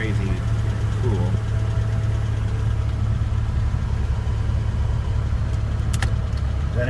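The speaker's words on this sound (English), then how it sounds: "That engine doesn't sound too healthy" A car engine idles with a rough, uneven low rumble and a steady knocking pulse, heard up close with faint talk.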